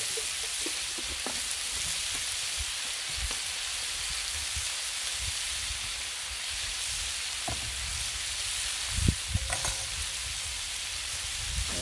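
Bacon and minced garlic sizzling in a pan, a dense, even crackling hiss throughout, close up, with a few faint knocks of stirring and no talk.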